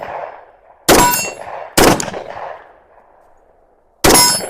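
10mm shots from a Glock 20 Gen 5 pistol striking a steel target at close range, heard as three loud, sharp metallic clangs that ring and fade between them.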